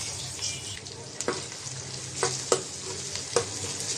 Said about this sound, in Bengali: পেঁয়াজটা একটু ভেজে নেব হালকা করে।